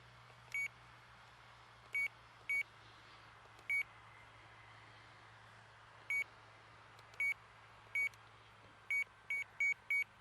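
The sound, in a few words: radio control transmitter switch warning beeping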